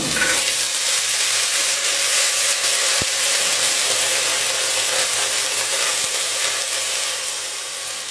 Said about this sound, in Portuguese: agora que eu já fritei o alho e a cebola, é que eu vou jogar o feijão que tava de molho